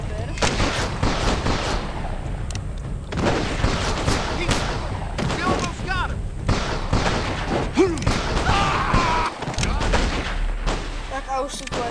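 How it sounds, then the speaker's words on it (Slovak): Repeated gunshots from the Western video game GUN crack and thump in close, irregular bursts throughout, layered with other busy in-game noise. "Tak a už sú tu aj tí naši a už strieľajú."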